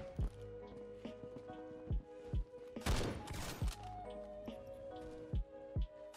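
K14 rifle in the Phantom Forces video game firing a handful of spaced single loud shots, each sharp crack standing out over a steady bed of game music and effects.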